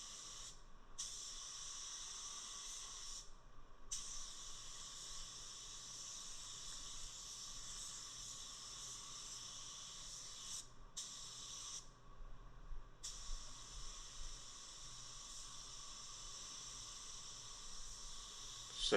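A spray gun lays a second coat of paint on a car bumper in long continuous hissing passes broken by a few brief pauses, fairly faint against a quiet background.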